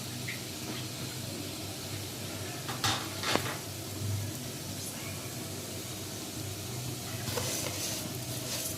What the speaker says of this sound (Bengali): চালটাকে আমি ভালোভাবে একটু ভেজে নিব